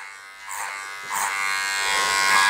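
Electric hair clippers with a number 2 guard buzz steadily up close while blending a short curly taper, the motor tone wavering slightly as the blade moves through hair.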